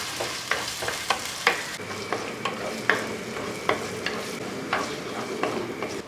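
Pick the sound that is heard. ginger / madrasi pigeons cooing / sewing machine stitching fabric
ginger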